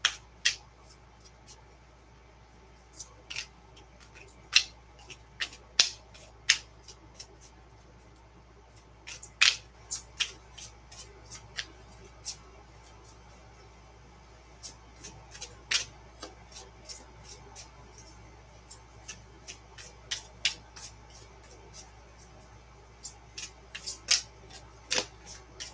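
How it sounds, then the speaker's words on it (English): A large tarot deck being shuffled by hand, giving scattered sharp card riffles and snaps at an irregular pace over a faint steady background hum, fairly quiet and close. "just watch the cards as I shuffle"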